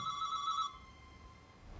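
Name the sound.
telephone ringing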